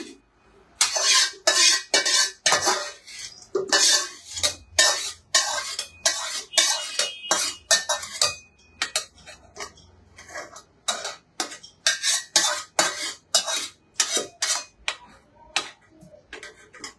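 Metal utensils clink and scrape against a pot while food goes into a pressure cooker, a rhythmic series of sharp taps and clatters, some rapid, some spaced out, close and without talk.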